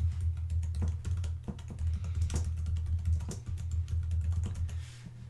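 Steady keyboard typing on a computer keyboard, a fast run of soft clicks over a low constant hum, with no voices.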